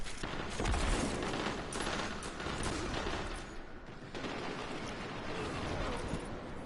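Grenade blasts and gunfire in the sci-fi shooter Destiny 2, a dense continuous barrage of booms and rapid shots with no talk.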